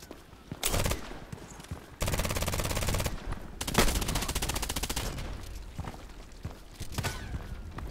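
Bursts of automatic MP5k submachine gun fire in a multiplayer shooter, rapid rattling volleys with brief gaps between them, close and loud throughout.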